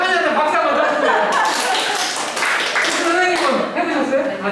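Applause from a seated audience at a lecture, a burst of claps lasting several seconds with a pause in the middle, mixed with light chuckles and a speaker's voice.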